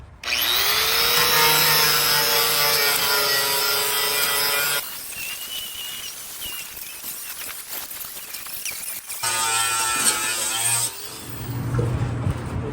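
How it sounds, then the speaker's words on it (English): Sanding disc grinding metal on a John Deere D120 lawn tractor during restoration, a loud sustained abrasive whine lasting several seconds, then quieter scraping and handling, then another burst of grinding near the end. "I finished with the wire wheel here, and then I started with the sanding disc here"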